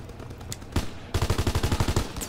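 Rapid automatic gunfire in the Call of Duty WWII multiplayer game: a short burst, a brief pause, then a longer rattling volley of evenly spaced loud shots.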